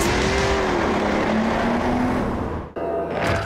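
A BMW race car roaring along a track as it crosses the finish line, a loud sustained engine drone with a shifting whine that cuts off abruptly near the end.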